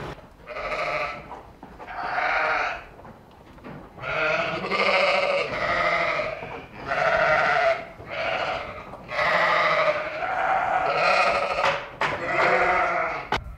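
Ewes and lambs bleat over and over inside a barn during lambing season on an Icelandic farm, the loud, close calls overlapping in irregular bursts with no talk.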